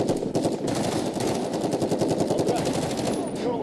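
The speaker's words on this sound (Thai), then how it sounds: "ยิงจังเลยไม่รู้เห็นเขายิงยิงด้วย" Rapid automatic gunfire in the video game Call of Duty Warzone, a dense, continuous rattling burst that runs through nearly the whole stretch at steady, loud volume, with faint voices underneath.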